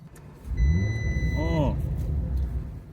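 An Audi RS5 engine runs with a low, steady rumble at idle, holding an even tone throughout.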